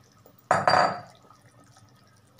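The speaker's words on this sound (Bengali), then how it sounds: "মাছ আমি দিয়ে দিই।" Fried rohu fish pieces dropped into boiling curry with potatoes in a kadai make a sudden loud splash and sizzle, fading over about half a second, followed by quiet simmering.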